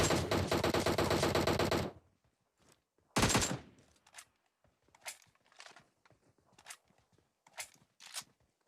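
Video game gunfire knocks down an enemy: a loud sustained automatic burst of about two seconds, then another short burst and scattered single shots with quieter movement sounds between.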